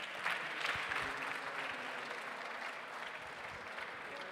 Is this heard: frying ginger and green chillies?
no